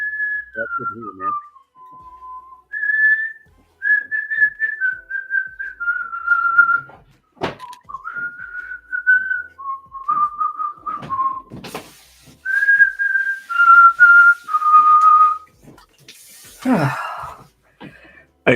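Someone whistles a wandering tune in short held phrases, close to the mic, with breaths and small clicks between the notes during a LEGO Star Wars AT-AT building session.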